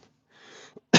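A single close human sneeze: a soft indrawn breath, a short catch, then a sharp burst at the end, otherwise near silence.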